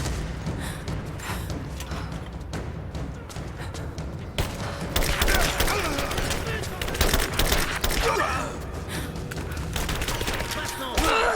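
Rapid, dense gunfire rattles through a firefight in Rise of the Tomb Raider, with repeated volleys and booms over a constant game background, while a player talks at times.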